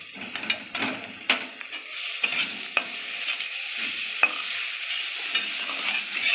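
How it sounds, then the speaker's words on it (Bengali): Chopped tomatoes and garam masala frying in a pan for masala baigan, a close hiss of sizzling broken by repeated spatula stirs and scrapes against the pan, with no voices. "মশলাটা একটু ভেজে নেব।"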